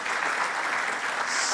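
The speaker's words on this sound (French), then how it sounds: "On peut applaudir ce panel excellent." An audience claps for a conference panel on carbon footprint measurement, a brief burst of dense, continuous applause filling the room.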